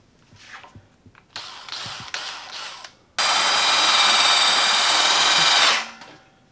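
A power drill starts with a few short bursts, then runs steadily and loudly for about three seconds before winding down.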